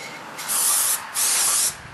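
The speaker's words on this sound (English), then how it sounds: "go outside and spray it down with some brake cleaner to get all the oil and all the stuff off of it" Brake cleaner sprayed from an aerosol can outdoors onto an oily shop project gives two sharp, loud hissing bursts of about half a second each, separated by a brief pause.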